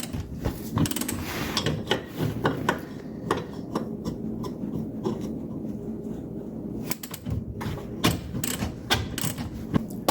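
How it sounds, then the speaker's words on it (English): Ratchet wrench working on the shock absorber of a 1973 Dodge Dart during a suspension rebuild, making dense rapid clicking in repeated close bursts with brief pauses between strokes. "Let's pop our shock off."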